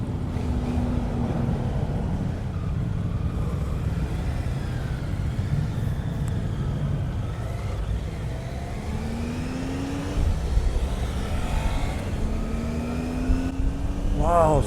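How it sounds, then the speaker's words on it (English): Engine of a 2018 Triumph Tiger 800 XRt three-cylinder motorcycle running, its hum rising in pitch with several revs, under heavy wind rush throughout. "this bike has the iconic Triumph 3-cylinder engine"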